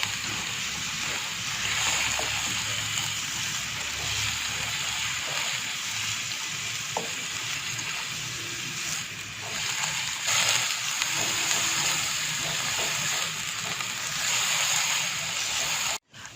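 Half a kilo of boneless chicken fries in melted ghee over a high flame, a dense continuous sizzle and spatter with occasional clinks, steady and close throughout.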